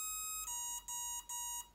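An EMAX drone ESC sounds programming beeps: a continuous high electronic tone broken into three or four short pulses with brief gaps, clear and close with no talking.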